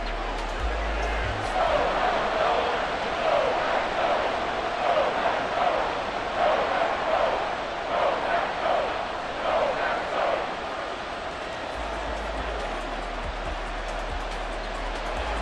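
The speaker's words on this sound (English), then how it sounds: "This crowd turning up the decibel level." Stadium crowd in a Madden NFL football video game simulating Lions versus Packers, a dense, steady roar that swells slightly in the middle and holds at a constant loud level throughout.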